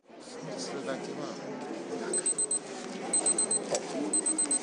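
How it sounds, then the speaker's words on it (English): A testing device gives short electronic beeps, the signal to take a blood sample during a sugar drink glucose test, sounding in quick repeated bursts over a steady murmur of voices. "The beeping is the signal to take a blood sample."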